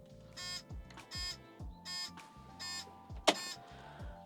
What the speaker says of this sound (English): If the rooftop is not closed properly, when we will turn the key, we'll make this kind of noise